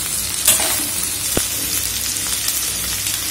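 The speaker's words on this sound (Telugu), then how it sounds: "చూడండి బెండకాయ ముక్కలు వేగుతున్నాయి." Okra pieces frying in a pan give a steady close sizzle with faint crackles and one sharp pop, no talking over it.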